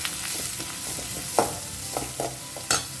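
Chopped onion fries in a pan over a high flame, giving a steady loud sizzle with several sharp stirring scrapes and clinks scattered through it, and no voices.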